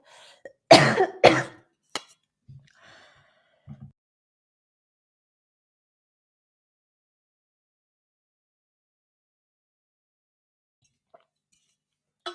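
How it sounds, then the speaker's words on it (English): A couple of sharp coughs close by, followed by a few softer throat sounds and small clinks, then near silence. "I need to take some water because I'm about to cough."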